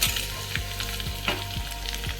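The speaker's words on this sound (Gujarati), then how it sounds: "બધું બરાબર મિક્સ કરીને બટેટાના ઉપર વઘાર કરી નાખવાનો." Tempering of cumin, turmeric, asafoetida, curry leaves and ginger-chilli paste sizzling in hot oil as it is poured over potatoes for Mumbai-style vada pav, a steady close crackle with soft stirring scrapes at regular intervals and no talk.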